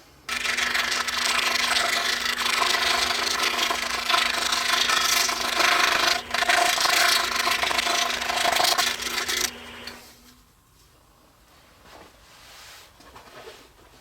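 A drawn pattern piece is cut out with a steady, loud rasping, sawing stroke that runs continuously for about ten seconds, then stops and leaves near quiet.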